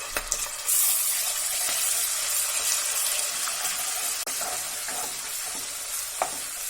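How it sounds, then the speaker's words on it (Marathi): Ginger garlic paste frying in hot oil for a dhaba-style chicken gravy, giving a steady broadband sizzle with faint stirring scrapes and clinks, close and continuous without any voices. "एक अर्धा मिनिट मी आलं लसूण पेस्ट तेलामध्ये फ्राय करून घेतली।"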